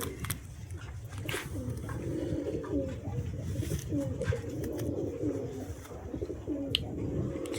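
Teddy flying pigeons kept in a loft give a continuous chorus of low, rolling coos, several birds overlapping close by with no pause.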